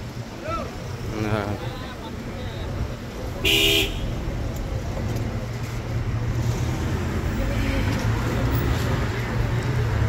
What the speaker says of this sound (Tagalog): Medyo matraffic ngayon dito.